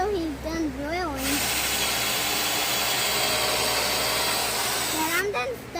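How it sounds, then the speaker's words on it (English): A power drill whines loudly and steadily for about four seconds while boards for a driveway bridge are drilled, with a person's voice briefly heard before and after the burst. "I'm gonna stop until he's done drilling."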